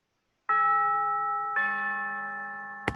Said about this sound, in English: have a listen to this tubular bells